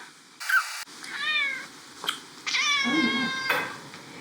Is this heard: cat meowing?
yes